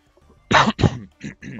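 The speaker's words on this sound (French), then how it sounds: "juste une légère toux" Two close, short coughs in quick succession, followed by a couple of softer throat-clearing bursts.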